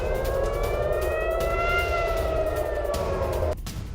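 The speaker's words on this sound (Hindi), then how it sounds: "मिसाइल अटैक के बाद सायरन गूंजा" A loud, sustained air raid siren wails after a missile attack on Tel Aviv, its steady rising-and-falling tone filling the whole stretch and dropping off slightly near the end.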